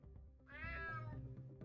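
A cat meows once in a video game, a clear, drawn-out meow set over a low ambient game soundscape.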